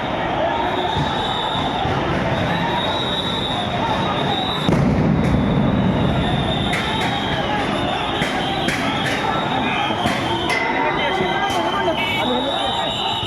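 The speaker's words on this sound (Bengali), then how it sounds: "একের পর এক সাউন্ড গ্রেনেড নিক্ষেপ করছে আইনশৃঙ্খলা রক্ষাকারী বাহিনী" Police sound grenades thrown at a street protest at Shahbagh: one sudden heavy blast midway stands out over a constant crowd roar, with a reporter talking throughout.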